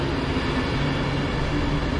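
A train at Preston railway station, arriving from Blackburn, gives a steady, loud broadband rumble with a low hum, continuous and close throughout, with no talk.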